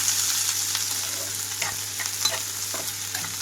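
Chopped onions and green chillies sizzle in hot oil in a pan for egg bhurji, a steady frying hiss with scraping stirring strokes and no talk.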